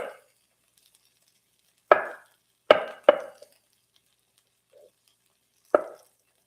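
A knife chops through slimy mushrooms on a board with a few sharp, separate cuts, one, then a quick pair, then a soft tap and a final cut, close up and dry against quiet pauses.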